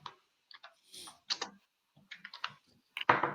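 Computer keyboard typing a keyword search for yoga mat in a product research tool: scattered, uneven key clicks with gaps, close and moderately loud, ending in a louder clack.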